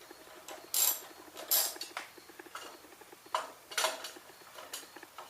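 Socket wrench removing a bolt on a Briggs and Stratton engine, a series of quick, close ratcheting clicks in short bursts.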